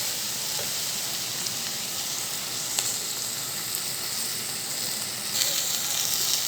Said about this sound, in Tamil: சேர்த்து இது கொஞ்சம் நேரம் வதங்கி வரட்டும்.